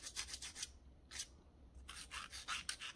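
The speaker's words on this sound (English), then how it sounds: "I wish I had someone to file my nails for me." A nail file rasping across fingernails in rapid back-and-forth strokes, close and crisp, with a brief pause midway before the quick scraping bursts resume.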